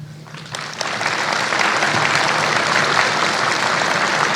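Students and guests at a school Veterans Day assembly break into applause for essay contest entrants, the clapping swelling quickly from a quiet start into a steady, full round.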